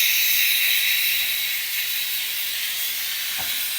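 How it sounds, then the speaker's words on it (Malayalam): A pressure cooker vents steam in a loud, steady hiss that stays close and continuous from start to finish, with no voices over it. "ഈ കുക്കറിനടി ഒന്ന് കഴിഞ്ഞോട്ടോ എന്ന് പറഞ്ഞുതരാം"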